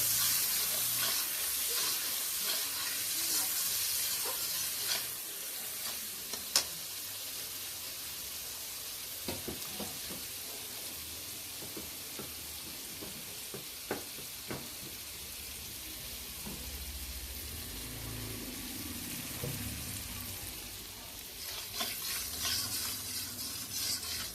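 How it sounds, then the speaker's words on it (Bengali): Spice paste frying and being stirred in a pan until its moisture comes out, with potatoes to follow: a steady close sizzle with scraping stir strokes and occasional clinks, loudest at the start and end, no talking. "তারপর মশলাটা ভালো করে কষানো হলে মশলার থেকে জল বেরিয়ে এলে"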